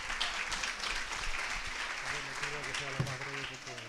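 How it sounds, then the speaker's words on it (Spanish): An audience applauds a professor at a health sciences session on traditional medicine and complementary therapies held at a hospital. The dense clapping fills the room steadily, and a voice starts talking over it toward the end. "Un aplauso para el profesor."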